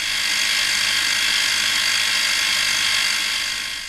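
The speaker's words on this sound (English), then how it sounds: "I'm cutting some pretty visible divisions in that nut." An SC4 lathe cuts graduation divisions into a nut, producing a continuous, close mechanical whir with a bright, hissy edge that holds steady throughout and fades slightly at the end.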